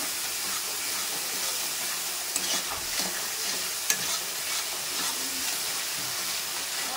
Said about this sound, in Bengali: ভালো করে মশলাটা কষিয়ে নেব আমি যতক্ষণ না তেল ছাড়ছে